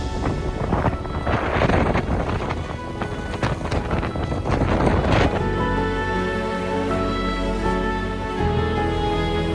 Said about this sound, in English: the apparent wind speeds reached 27 knots